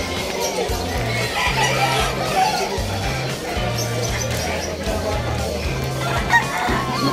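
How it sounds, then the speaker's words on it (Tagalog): Chickens cluck and a rooster crows amid a busy, noisy crowd at a pet market in Malabon, with people talking throughout. "Daming manok"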